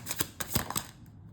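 A brief burst of crisp, rapid papery riffling as a deck of cards is shuffled, a few quick flutters close by, then it stops.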